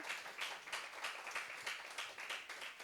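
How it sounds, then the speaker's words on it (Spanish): Congregation clapping during a Spanish-language church service, a faint, rhythmic run of roughly evenly spaced claps in unison, sustained for about three seconds. "Las invito a que demos un fuerte aplauso al Padre, al Hijo y al Espíritu Santo"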